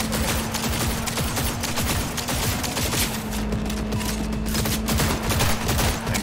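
Sustained rapid gunfire in the video game Cyberpunk 2077, a dense continuous barrage of shots over a low steady hum, loud and unbroken for the whole stretch.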